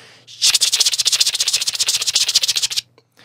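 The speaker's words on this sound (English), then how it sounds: "a cicada is a little cricket-like creature bug" A loud, pulsing cicada buzz rises abruptly, throbs rapidly and evenly for about two seconds, then cuts off; close and harsh, with no voices.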